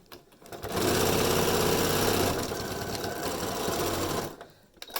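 Sewing machine back stitching bias tape onto a fabric face mask, a steady close mechanical whir running for several seconds before stopping.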